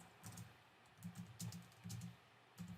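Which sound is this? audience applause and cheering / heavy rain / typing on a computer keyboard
typing on a computer keyboard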